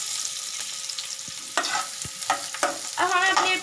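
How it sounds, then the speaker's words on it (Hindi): Onions frying in hot oil, stirred with a utensil: a soft steady sizzle with a few short scraping strokes and clinks, growing busier toward the end, close and fairly quiet. "प्याज भून लेनी है।"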